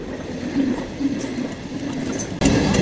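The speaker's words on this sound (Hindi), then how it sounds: "रेल आने वाली फाटक गिर गई" A train rumbles steadily past a village railway crossing with its gates lowered, a continuous loud clattering roar of rolling wagons heard nearby, with a sudden burst of louder rail noise near the end.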